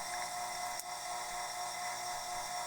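Drill steadily enlarging the bore of a set-screw collar for a Wheel Horse Model 401 tractor steering shaft, a continuous high whine with a brief catch partway through, close and alone.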